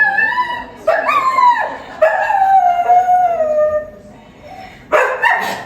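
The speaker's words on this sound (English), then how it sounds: "I did have to put up with 2 barking dogs." A dog heard at breakfast gives long, wavering howls and yipping barks, loud and close, in several drawn-out bursts with short gaps between.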